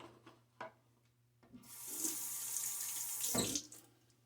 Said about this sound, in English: I think that might be all the water I'm going to add